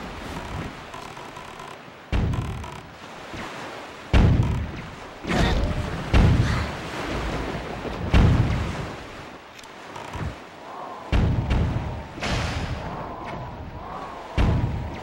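Heavy booming thuds from a ship's cannon fire in Zelda: The Wind Waker, several irregular blasts over rolling ocean-wave ambience, with no talking.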